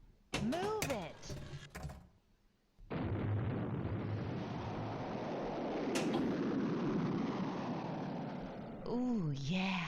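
Fireworks bursts in the Junk Yard table of Pinball FX3 erupt as a sustained roaring, crackling explosion that lasts several seconds, framed by short bright electronic bleeps and game effects before and after.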